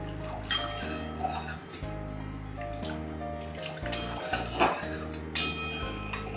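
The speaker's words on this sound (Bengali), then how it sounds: "এবার আমি এতে পরিমাণ মতো একটু জল দিয়ে দিচ্ছি" Water poured into a pan of cooked spice paste brings splashing, running water and hissing, along with clinks and knocks of utensils against the pan, close and uneven with several sharp bursts.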